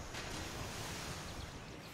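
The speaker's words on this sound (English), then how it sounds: "Here, where the waves caress the land" Ocean waves wash onto the serene sandy beach of McWay Cove as a steady, continuous broadband roar of surf, with a faint breath of wind and no distinct individual breaker crashes.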